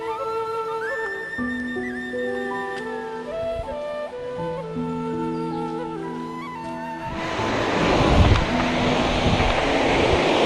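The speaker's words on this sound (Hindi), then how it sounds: "ऊपर से ये झरना आ रहा" A waterfall pours down from above beside temple steps on a steep climb. It swells into a loud, steady rushing roar in the final seconds, after a stretch of tonal music with no water noise.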